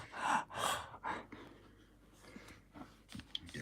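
Heavy breathing picked up by a video call microphone during a drawing session, a few loud close breaths at first, then quieter, softer breaths with faint background noise.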